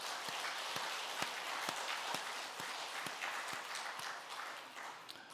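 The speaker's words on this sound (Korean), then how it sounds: "찬양대의 감사와 하나님께 영광의 박수 올려드리겠습니다" A church congregation applauds the choir, a soft, far-off rush of many hands with occasional sharper claps poking through, fading slightly toward the end.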